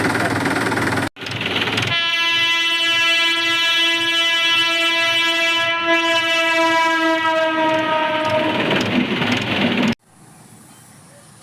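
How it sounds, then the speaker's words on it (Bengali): A train comes up to a railway level crossing at Boinchi and sounds a long, loud, sustained horn over several seconds above heavy rumbling, then cuts off into quieter ambience. "ট্রেন ঢুকছে।"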